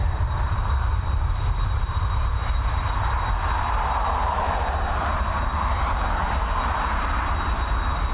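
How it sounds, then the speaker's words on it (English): A Boeing 767 departing Dublin Airport gives a loud, sustained jet engine roar with heavy low rumble, holding steady close by for the whole stretch with no talk over it. "I cannot wait for the sounds of that 767 departure"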